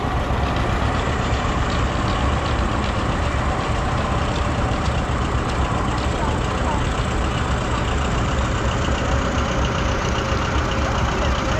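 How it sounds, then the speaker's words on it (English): A John Deere Model 60 tractor engine runs at a thresheree parade, a loud, steady low rumble that continues for the whole stretch amid outdoor crowd noise and voices. "So the Model 60 is the tractor that replaced the John Deere Model 8."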